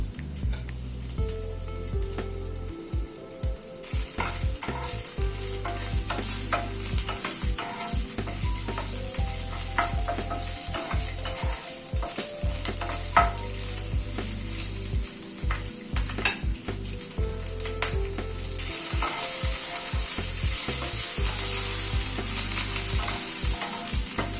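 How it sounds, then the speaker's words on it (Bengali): Capsicum fries in oil in a pan, a steady close sizzle throughout, with the pieces tossed and stirred at intervals, making light scraping and rattling over the continuous hiss. "এবার ওই তেলে ক্যাপসিকামটা একটু টস করে নিচ্ছি।"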